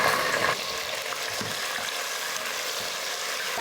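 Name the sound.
onion and tomato sautéing in a pan for soya biryani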